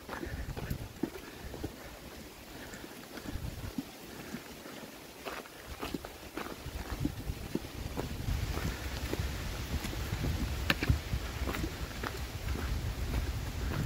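Strong wind gusts buffet a microphone on a mountain ridge along a long-distance hiking trail, a rough continuous rumble with intermittent thumps and swells.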